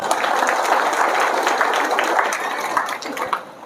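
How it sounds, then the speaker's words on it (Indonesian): Audience applause breaks out at a gathering in Indonesia, a dense spread of clapping that holds steady for a few seconds and then starts to thin out near the end. "Tepuk tangan dulu."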